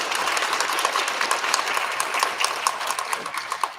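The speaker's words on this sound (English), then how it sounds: "let's give them one more big round of applause" Audience applause fills a school recognition ceremony, a dense, steady wash of many hands clapping at close range that holds evenly throughout with no speech over it.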